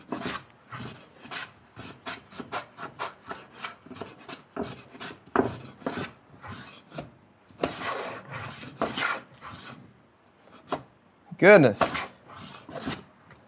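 Hand plane rasping across pine end grain during a block table build: a run of short, dry scraping strokes in an uneven rhythm, close and moderately loud, with a brief spoken exclamation near the end.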